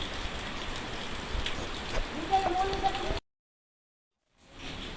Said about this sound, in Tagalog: Malakas daw ang ulan, hindi hangin.